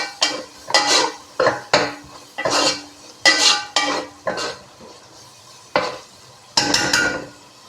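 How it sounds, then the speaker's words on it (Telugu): Two spoons of garam masala paste are stirred and fried in a pan for chicken tandoori biryani, with repeated loud scraping and clinking bursts of a metal spoon against the pan over a faint sizzle. "ఇందులో వేసి ఇది కొంచెం పచ్చివాసన పోయే వరకు ఫ్రై చేసుకుందాం"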